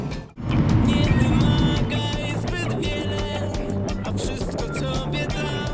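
A car driving on a road while overtaking a double-trailer truck, a continuous loud rumble of engine and tyre noise with wind roar that swells at the start and holds steady.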